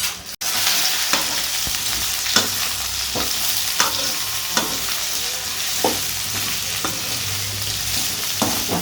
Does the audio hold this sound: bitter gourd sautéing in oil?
yes